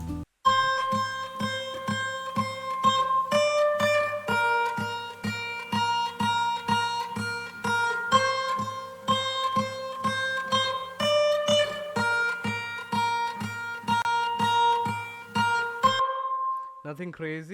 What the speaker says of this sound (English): So I have recorded a separate melody to go over on top of the guitar loop